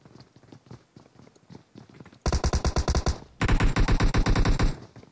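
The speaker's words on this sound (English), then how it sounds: "narrowly escaping the bullets" Video-game gunfire during an Unknown Soldiers squad tournament: after soft scattered taps, loud rapid automatic bursts erupt in two long rattling strings near the listener.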